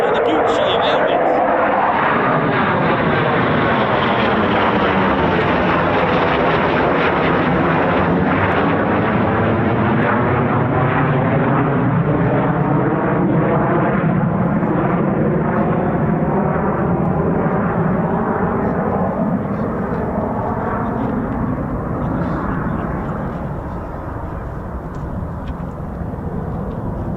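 An RAF Eurofighter Typhoon FGR4 jet roars past at an air display. The loud, sustained engine thunder sweeps downward in pitch as it passes, then eases slightly and recedes near the end.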